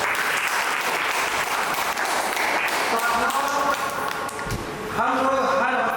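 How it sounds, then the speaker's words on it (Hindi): A seminar audience applauds loudly for the children, dense continuous clapping throughout, with some voices and tonal sounds rising near the end. "हम चाहेंगे बच्चों के लिए एक बार जोरदार तालियां बजाएं।"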